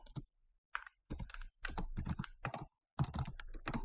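Keys clatter on a computer keyboard in short quick bursts separated by brief pauses, close and fairly quiet, with no talking.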